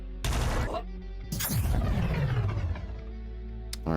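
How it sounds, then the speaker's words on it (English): Beam weapon fire in the sci-fi game Quasimorph: two loud bursts of firing with rumbling, whooshing tails, the second longer and fading slowly, plus a short crack at the end. "there's something shooting beams down here"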